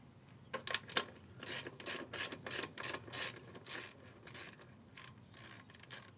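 A hand ratchet loosens the axle nut on a Suzuki DL1000 V-Strom motorcycle, giving a close series of quick rasping clicks in short bursts, with no talk.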